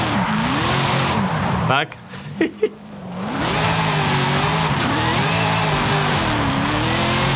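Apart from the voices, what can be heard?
Dodge Hellcat widebody wide slick tires squealing, Forza Horizon video game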